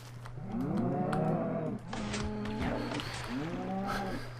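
Minecraft cows moo in three long, drawn-out calls, loud and close, over a steady low electronic hum.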